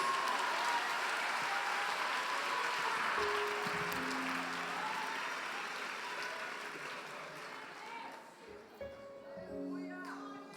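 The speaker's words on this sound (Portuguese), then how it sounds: "Pode aplaudir a Jesus." Congregation applauding during an evening session of a women's church congress, a broad wash of clapping that slowly fades as a voice and tonal sounds emerge beneath it.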